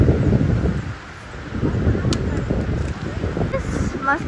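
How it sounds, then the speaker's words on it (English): Wind buffets the microphone by a long river where minnows are being caught, a loud continuous rumbling roar with a voice briefly audible near the end. "The wind."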